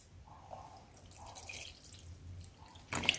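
Water is poured slowly into a bowl while making homemade cold porcelain modeling clay, a soft, faint trickle and drip, followed by a brief louder splash at the end.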